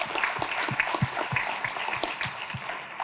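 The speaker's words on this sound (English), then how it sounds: "please one more round of applause for my assistant" An audience at an afternoon gathering applauding for an assistant, a steady patter of many hands clapping at moderate volume with no voices over it.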